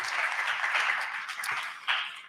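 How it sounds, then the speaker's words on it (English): Audience applause at a hackathon livestream, a short, steady burst of clapping from a modest crowd that swells slightly before ending. "Round of applause."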